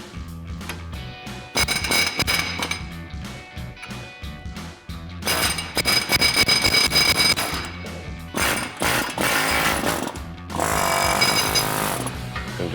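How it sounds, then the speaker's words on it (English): Air hammer striking the back of a front axle to knock off the wheel hub on a RAM 1500, rapid loud pneumatic hammering in several long bursts with brief gaps between them. "Then I'm going to take my air hammer and I'm going to strike the back like this until it comes off."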